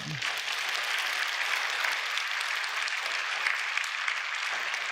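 A church congregation claps together during a sermon, a dense, steady wash of hands that holds at an even level from start to finish.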